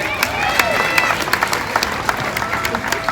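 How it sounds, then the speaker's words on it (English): An audience at the Universal Studios Hollywood Animal Actors show claps for a performer, crisp scattered hand claps over crowd noise, while a voice carries over the applause. "Big round of applause for our actor."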